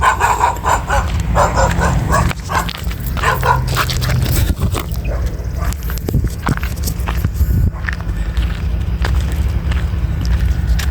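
A stray dog barks and yips nearby amid loud, steady background noise and footsteps, with a brief whimper.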